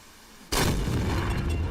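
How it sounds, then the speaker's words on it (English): Video game missile explosions: a sudden loud blast after a brief quiet moment, followed by a sustained roaring rumble that stays loud to the end. "Hopefully we'll be able to see the 2 explosions."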